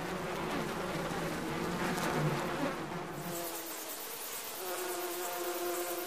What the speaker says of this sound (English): Honeybees are busily coming in and out